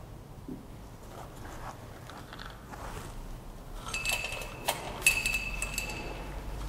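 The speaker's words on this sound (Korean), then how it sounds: "이 나무 조각을 삼각 플라스크 안에 넣어 보겠습니다" A small wood piece drops into a glass Erlenmeyer flask, giving a few faint, bright clinks and taps against the glass near the end over quiet room background.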